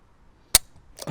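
A Taurus Raging Hunter .460 revolver's hammer drops on a trigger pull test, one sharp close metallic snap followed by a faint handling click.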